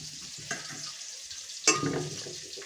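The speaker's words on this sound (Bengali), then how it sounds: "শুকনো কড়াইয়ের মধ্যে দিয়ে আমি ভেজে নিচ্ছি ওলকপি মাখা শুকনো লঙ্কাটা" Dry chillies crackle quietly in a hot dry pan without oil, with a light scrape early on and a sharper clatter of stirring midway.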